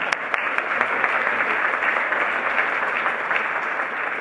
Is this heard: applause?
yes